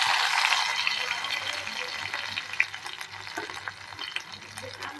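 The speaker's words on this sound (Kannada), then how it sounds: "ಒಂದು ಅರ್ಧ ಚಮಚೆ ಸಾಸಿವೆ ಇದಕ್ಕೆ ಬೆಳ್ಳುಳ್ಳಿ ಹಾಕ್ಬೇಕು" Mustard seeds and garlic fry in hot oil with a steady, close hiss and scattered sharp crackles and pops, loudest at first and easing slightly.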